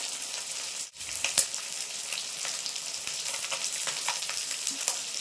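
Small puti fish fry in hot oil in a pan with a dense, steady crackling sizzle, dipping briefly near the start and continuing with occasional sharper pops, and no voices.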